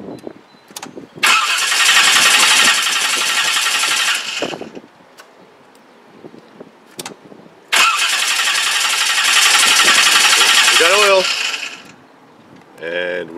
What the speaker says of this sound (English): We're just going to crank it so there's oil coming out of this tube